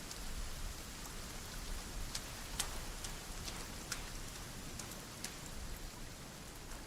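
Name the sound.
rain in the video game Sons Of The Forest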